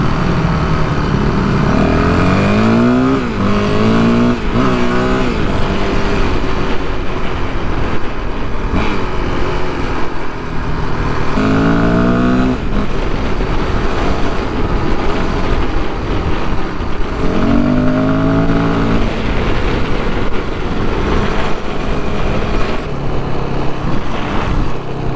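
An enduro motorcycle engine on its first ride of the year revs loudly in several rising and falling bursts over a constant roaring drone, while the wheel spins in sunlight.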